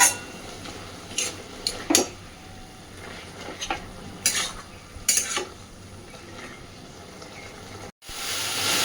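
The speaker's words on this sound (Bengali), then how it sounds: "লাউ পাতার সাথে রসুন, কালো জিরে, কাঁচা লঙ্কা সব কিছু সুন্দরভাবে ভেজে নেব" Bottle gourd leaves frying with garlic, nigella seeds and green chili in a pan, a soft steady sizzle broken by scattered sharp clinks and scrapes of a spoon against the pan, with no voices.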